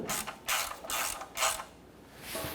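A ratchet wrench snugging down the oil pan drain plug on a 1993-1997 Ford Ranger, four clear clicking bursts in a steady rhythm, close and fairly quiet with no talk.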